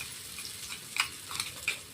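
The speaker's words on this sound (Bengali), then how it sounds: "দুটো একসঙ্গেই কষাবো।" Ginger and cumin sautéing together in a kadai, a quiet spread of soft sizzling with a few sharper clicks and scrapes of stirring, close and low in level, with no talking.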